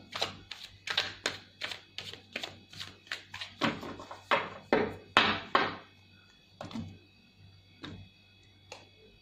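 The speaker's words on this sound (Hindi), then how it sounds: "Okay, last shuffle." A deck of tarot cards being shuffled: a steady run of crisp, close riffling snaps and taps at a regular rhythm, fading into a few scattered flicks at the end, with no voices.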